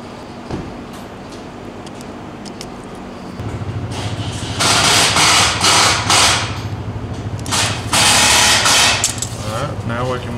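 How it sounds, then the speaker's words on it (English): An electric winch on a CFMOTO ATV whirs as it reels in synthetic rope, starting after a mechanical clunk and running loudly in a steady hum with brief surges; a voice talks over the start. "now we can winch it the rest of the way up"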